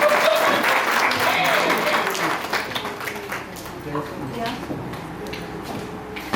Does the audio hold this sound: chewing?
no